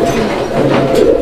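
Farm-bred fancy pigeons coo close by in a brief, low, continuous burble with no voices over it.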